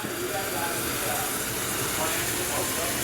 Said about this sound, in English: We got a little sizzle.